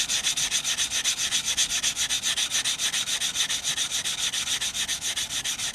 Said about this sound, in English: what I'm going to do next is just sand this cut edge right here